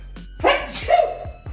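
A single short, sharp sneeze close by, a quick burst standing out against a quiet room.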